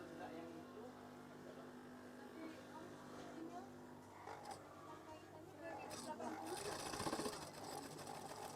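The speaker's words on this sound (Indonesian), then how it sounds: "Kemudian jahit saja. Bahan ini sangat tebal." A sewing machine stitches through very thick curtain fabric, its motor whirring in a steady rapid rhythm close by, growing busier toward the end as a person talks quietly over it.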